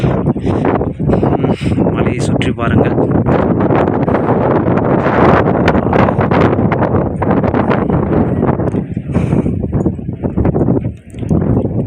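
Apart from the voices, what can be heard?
strong wind blowing on a mountaintop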